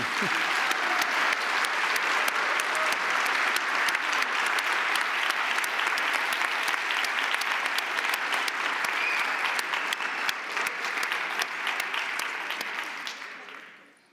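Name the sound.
audience applause for the conference team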